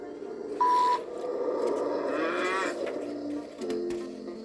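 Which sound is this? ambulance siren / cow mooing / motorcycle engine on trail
cow mooing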